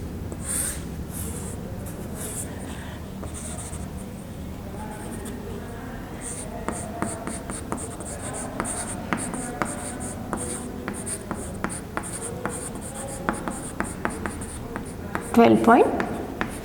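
Pen or pencil scratching on paper while a graphical scale is drawn, a run of short strokes and ticks that grows busier toward the end, with a voice talking in the background.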